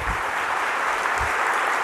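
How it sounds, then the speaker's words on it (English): A conference keynote audience applauds in a steady, dense wash of clapping from a large crowd, heard alone for a couple of seconds. "If you can give them a round of applause."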